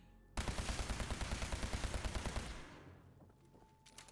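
A laser gun fires in Fallout 76 as a rapid burst of about twenty sharp, evenly spaced shots that is loud and close, then stops abruptly and leaves a fading tail.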